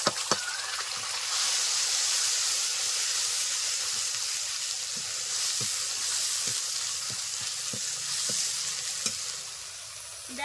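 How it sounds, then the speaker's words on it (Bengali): Mustard-poppy seed and green chili paste sizzling steadily in hot oil for a Bengali pabda fish curry, a continuous loud frying hiss with occasional soft stirring taps, no voices. "আর এখন দিয়ে দিচ্ছি সর্ষে পোস্ত ও কাঁচা লঙ্কা বাটা।"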